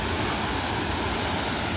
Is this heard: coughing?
no